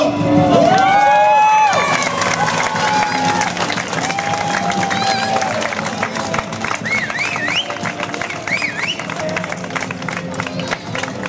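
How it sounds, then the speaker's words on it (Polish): A crowd at a professional knight fighting bout cheers, claps and shouts, loud at first and then settling into steady applause with voices rising over it for the whole stretch. "Szanowni Państwo, gorące brawa dla obu zawodników."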